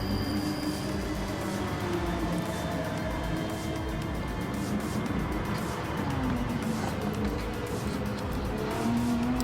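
A race car engine from Gran Turismo Sport drones steadily while climbing the hill toward the Corkscrew at Laguna Seca, a continuous engine note with gentle pitch shifts and no talking.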